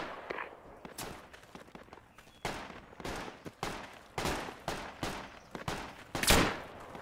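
Gunfire in the military shooter Project Reality, a jungle firefight of scattered single cracks and short bursts at varying distances, irregular and fairly loud, with one heavier blast near the end.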